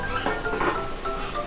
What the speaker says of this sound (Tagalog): Takpan natin syempre.